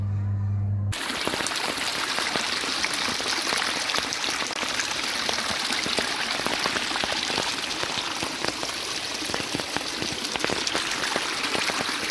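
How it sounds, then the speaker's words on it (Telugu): Heavy rain pours steadily, a dense hiss of drops pattering on surfaces throughout, close and loud, with no voices. "వర్షము ఫుల్గా పడింది"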